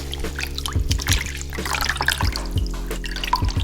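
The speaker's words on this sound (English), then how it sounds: "Rinse it out." Water splashes and trickles while an Instant Pot's inner pot is rinsed out, with irregular drips and sloshes over a steady low hum, close by and moderately loud.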